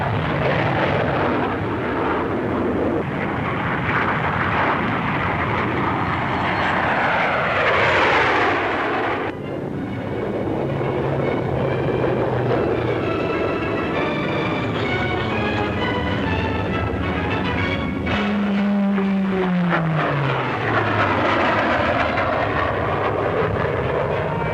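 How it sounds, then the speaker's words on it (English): A Supermarine 508 naval fighter jet, with a butterfly tail and no fin or rudder, flies past at the Farnborough airshow, a loud, sustained roar whose pitch sweeps down as it passes, then another swelling pass with falling whine. "A butterfly tail without fin or rudder is a characteristic of the Supermarine 508, claimed to be the fastest and most powerful naval fighter in the world"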